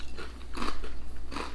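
Cheese and onion crisps crunch between teeth in a few sharp crackling bites, spaced irregularly and close to the mic, with quiet chewing in between and no talk.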